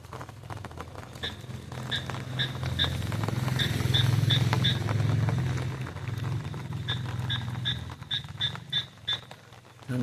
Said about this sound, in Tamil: தவளையும் தஸ்வி செய்யுது பாருங்கள்